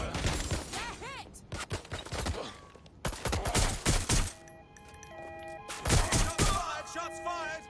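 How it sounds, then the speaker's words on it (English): Bursts of gunfire in the video game Watch Dogs: Legion, set in London, come as several loud clusters of sharp shots and thuds with game sound effects between them. "Shots fired!"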